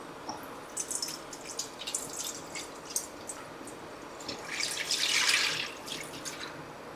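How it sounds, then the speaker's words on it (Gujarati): About a litre of milk poured into a kadai, a soft trickling splash that swells briefly near the end, faint and close, with no talking. "હવે એની અંદર મેં 1 લીટર જેટલું દૂધ લીધું છે"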